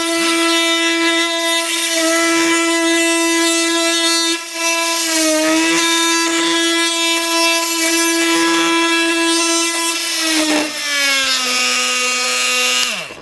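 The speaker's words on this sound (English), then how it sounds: "So far we've been through 2, 4, 6 nails with this titanium blade. It's still cutting nice and clean." A Milwaukee M18 Fuel oscillating multi-tool with a titanium blade cutting through nailed wood: a loud, close, steady high-pitched buzzing whine that dips briefly under load and drops in pitch as it winds down at the end.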